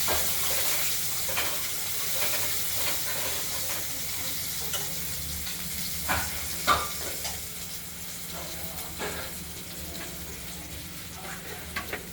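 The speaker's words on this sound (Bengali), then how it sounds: "এর মধ্যেই ফোড়নের মধ্যে আলুগুলোকে আমরা হালকা করে ভেজে নেব।" Diced potatoes lightly frying in a spiced oil tempering for a pabda fish curry with potato and tomato, a steady low sizzle with occasional stirring scrapes, close and alone without talk.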